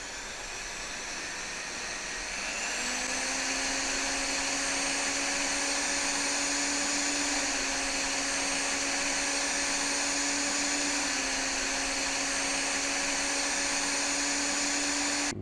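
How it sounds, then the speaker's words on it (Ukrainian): A Vitals cordless drill-driver whines steadily for several seconds while drilling a hole, its motor pitch settling lower as it bites into material, running continuously without pause. "Положення виставили на свердло і пробуємо другий отвір."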